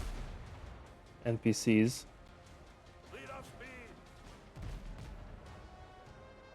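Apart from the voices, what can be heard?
ship cannons firing at NPCs in video game Windrose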